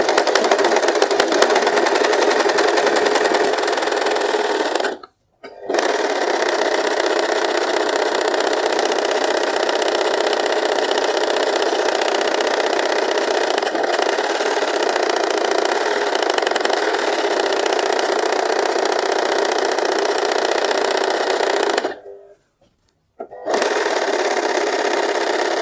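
A sewing machine runs a zigzag stitch along a sari fall and edge, a loud, close, continuous whirring hum that stops briefly twice before resuming.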